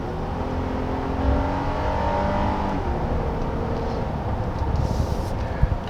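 A 2019 Honda Pilot Elite with a 3.5-liter V6 accelerating, the engine building from a low hum into a steady, rising drone heard from inside the cabin, with road rumble beneath.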